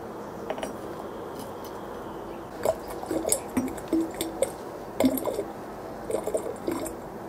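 Mercury and gold are poured from an old flask into a glass flask, giving a quiet run of soft clinks and wet squishing taps that come in small clusters over a low background hiss.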